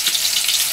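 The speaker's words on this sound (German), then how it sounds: "ganz langsam gebraten. Weil in starkem Bratprozess würde jetzt das Fleisch zu stark verkrusten." Wild boar medallions fry slowly in a pan on the stove, giving a steady, close, bright sizzle with no talk over it.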